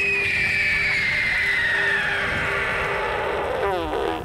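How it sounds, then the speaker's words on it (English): An albatross gives its sky call, pointing its bill upward: a long, harsh, wavering scream that slowly falls in pitch and breaks into rapid pulsing, loud and close. "they're known to perform sky calling, where they point their bills at the sky and make a chilling screaming sound"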